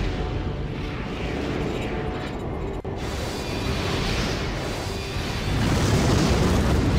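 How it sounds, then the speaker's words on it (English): Continuous heavy rumbling booms and blasts in the video game Armored Core 4 Answer, dense and loud throughout, like sustained explosions with no pauses. "those explosions could be a bit better"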